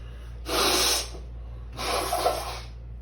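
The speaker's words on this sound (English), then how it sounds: "I'm gonna blow my nose" Person blowing their nose, two close, loud breathy honking bursts separated by a short pause, alone with no talk.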